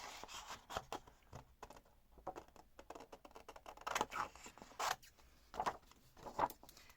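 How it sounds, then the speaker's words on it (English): Large scissors snip through paper in a quiet craft room, a string of faint, close crisp cuts and rustles coming in irregular bursts with brief pauses between them. "So I'm just going to grab my larger scissors for this."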